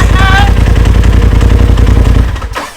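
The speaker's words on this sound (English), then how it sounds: "That sounds so good. Turbo noises. We finally have turbo noises." A loud Polaris RZR Turbo S UTV engine with a blow-off valve idles and revs with a rumbling, clattering tone and a whistling turbo spool, then winds down and fades at the end.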